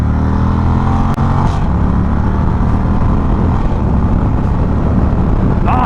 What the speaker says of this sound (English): All right, power, full send, second gear.